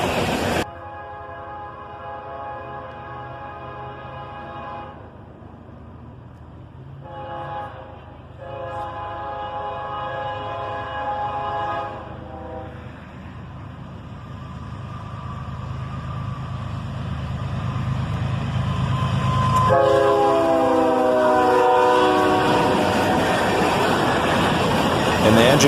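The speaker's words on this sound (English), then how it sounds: "the engineer gives us one long drag on the horn as an ES44 DC and an AC44 CW lead another manifest train south." A BNSF manifest freight train led by an ES44DC and an AC44CW locomotive rolls past close by with a heavy, building rumble. One long, loud horn blast sounds over the start, and a second shorter horn call comes near the end.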